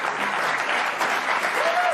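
Studio audience applause on a late-night comedy talk show, a steady, dense wash of clapping filling the room at close range without pause.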